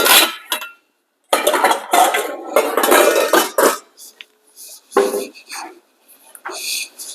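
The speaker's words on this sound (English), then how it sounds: "So I will grab a stainless steel mixing bowl." A stainless steel mixing bowl handled in a kitchen, with close metallic clanks, scrapes and rattles in uneven bursts separated by silences.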